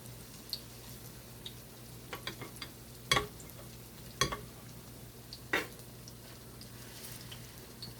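Ripe banana fritters fry in a pan with a low, steady sizzle, broken by a few sharp utensil clicks and taps against the pan, close and quiet with no talk.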